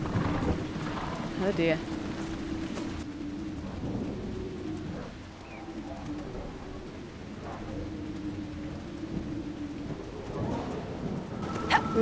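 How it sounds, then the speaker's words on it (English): Steady rain and low rumbling thunder in the video game Dragon Age Inquisition, a constant wash of downpour with occasional rolls and faint bird calls, while a person talks briefly over it. "Not with the rain as it is."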